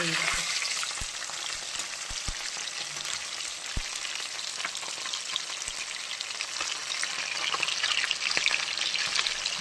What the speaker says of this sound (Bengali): এই দেখো এখানে মাছ ভাজা চলছে, ভাজাটাগুলোকে এবার একটু উল্টিয়ে দেবো দেখি